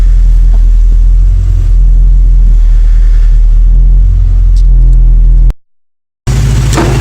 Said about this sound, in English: I'm just going to have a look underneath while the motor's running